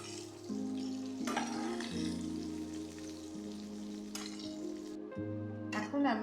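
Pieces of rohu fish fry in hot oil with a steady, close sizzle. Brief utensil clatters break in as the fish is turned, over a faint constant hum.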